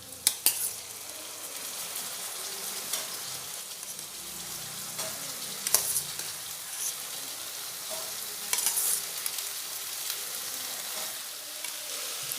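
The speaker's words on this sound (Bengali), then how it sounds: "এবার সিদ্ধ করে রাখা ছোলাগুলো দিয়ে দেব।" Boiled chickpeas and sautéed potatoes sizzle and fry in a pan for a chana masala, a steady close crackle with occasional stirring scrapes, no talking.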